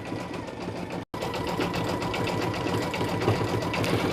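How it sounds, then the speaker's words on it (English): An embroidery machine stitches a name patch with a fast, steady mechanical chatter close by, broken only by a split-second cut near the start. "So I will let this stitch out for a while and I will check back in."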